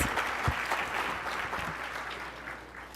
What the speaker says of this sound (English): Let's give Chris Shetty another round of applause for those beautiful renditions.